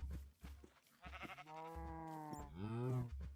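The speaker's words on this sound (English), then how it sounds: "Oh, and a sheep." Several sheep bleats from a Minecraft video game, a few short ones and then a long wavering cry, sounding close and clear with no talking.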